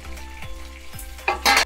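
Sliced onion and curry leaves fry in a pan for a gourd curry, giving a close, steady sizzle with a few sharp spatula scrapes and a sudden louder burst of crackling near the end.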